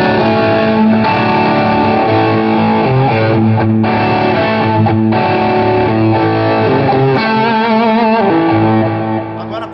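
Electric guitar at a soundcheck, a humbucker-style base tone through a distortion effects unit with the mids cut, playing loud sustained distorted chords and notes that ring on steadily, with no one talking.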